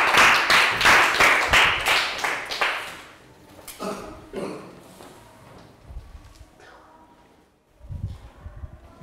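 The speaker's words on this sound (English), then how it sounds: "High five, round of applause." A Year 3 classroom gives a pupil a round of applause, a short burst of rhythmic clapping in unison for about three seconds, followed by quieter classroom shuffling and a few knocks.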